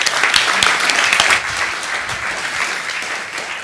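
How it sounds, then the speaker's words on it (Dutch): Warm audience applause welcoming a speaker onto the stage at an evening talk, a dense, steady wash of many hands clapping that stays loud before easing slightly toward the end. "ik wil heel graag een warm applaus en de volle aandacht en focus voor Stefan van der Stichel"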